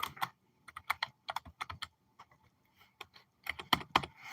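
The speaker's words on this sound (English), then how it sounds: "God, I keep typing wrong." Fingers type on a computer keyboard in quick, uneven bursts of close, crisp clicks with short pauses between, heard alone in a quiet room.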